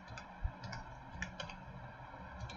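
Keys clatter on a computer keyboard as a vehicle registration number is entered, a quiet, close run of irregular soft clicks and taps with brief pauses between them.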